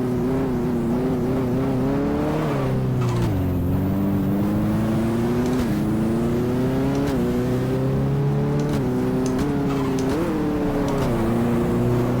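Race car engine in the GTR2 sim racing game at Fuji Speedway, revving loudly and continuously with rising and falling pitch as it accelerates, shifts gears and brakes through corners, with no voices.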